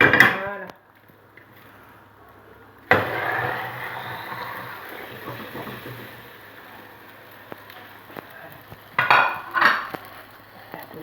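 A potato and onion omelette is turned out of a non-stick frying pan onto a plate, with a clatter of pan and plate at the start, a sharp knock near three seconds, then soft scraping and two more clinks toward the end.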